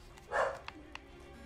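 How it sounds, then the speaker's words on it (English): A dog named in the talk lets out one short bark, close and fairly loud, followed by a couple of faint clicks in an otherwise quiet room. "Charlie, stop barking."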